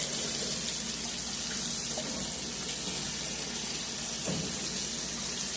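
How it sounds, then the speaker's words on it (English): Tap water runs steadily into a kitchen sink while hands are washed during beef liver and onion cooking, a continuous close hiss and splash with a few faint knocks and no talking. "Okay, wash up."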